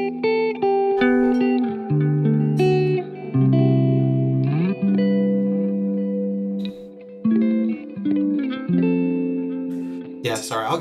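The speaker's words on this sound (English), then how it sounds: "it's just got a lovely sort of reverb to it" Electric guitar playing sustained chords and melodic notes, drenched in lush reverb and echoing delay, with a bright strum near the end.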